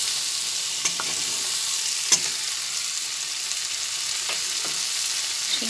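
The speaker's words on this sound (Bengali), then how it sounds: "নাড়াচাড়া করতে করতে আলুটা মোটামুটি ভাজা হয়ে এসেছে" Potatoes and flat beans fry in a pan under a soft, continuous hiss while a spoon stirs them, leaving scattered scraping ticks and taps.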